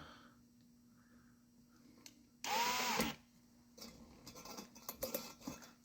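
A drill spins a valve against its seat to lap it on a 5.2 or 5.9 engine: one short, sharp whirring burst in a quiet workshop, followed by soft rattling and handling knocks.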